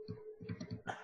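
A computer mouse gives a quick run of small, light clicks close by, several taps in quick succession over about a second.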